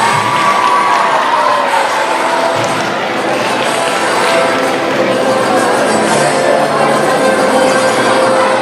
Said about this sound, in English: How about a round of applause for Bacon Boy and Gracie Girl